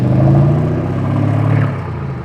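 A loud white Lamborghini Urus drives by close, its engine a strong low rumble that swells and fades over about two seconds, with no voices over it.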